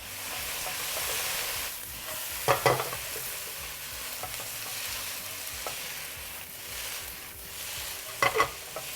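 Rice noodles being stir-fried with oyster sauce and light and dark soy sauce for Cantonese beef chow fun: a steady, close sizzle with two sharp spatula scrapes against the wok, no voices.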